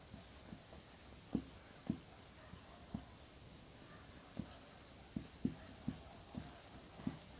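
Chalk or marker taps and scratches faintly on a classroom board during a Class 9 science lesson, short irregular strokes spaced apart in a quiet room with no speech.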